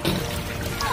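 Fast-moving rainwater rushes and gurgles continuously, a brief steady wash of flowing water.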